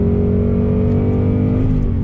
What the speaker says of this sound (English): That sound is intoxicating. It really, really is. They have done a great job with that Coyote V8.